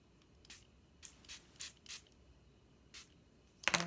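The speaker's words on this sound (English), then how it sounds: "And again, I'm going to spritz it." A spray bottle spritzes ink onto paper with a stamping block in a color-blocking craft, giving several short, faint hissing puffs at irregular intervals, close by, followed by a sharper handling noise at the end.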